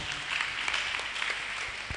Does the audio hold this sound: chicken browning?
no